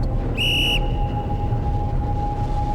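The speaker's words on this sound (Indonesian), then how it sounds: "Barusan kalian dengar suara peluit juga?" A single short whistle blast sounds once, shrill and somewhat distant, on an animated climb of Mount Mahameru, over a steady background hum and noise.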